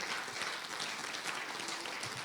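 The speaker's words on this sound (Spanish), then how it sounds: "Un aplauso, Señor, hermanos." A church congregation applauds together, a steady wash of clapping that stays even and fairly full from start to finish with no voices standing out.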